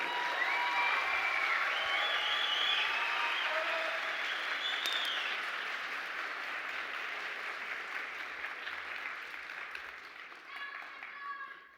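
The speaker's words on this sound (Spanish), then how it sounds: "y un aplauso para Iván Chacón." Audience applause for Iván Chacón at a live stand-up comedy show, sustained clapping with some cheering that gradually fades out toward the end.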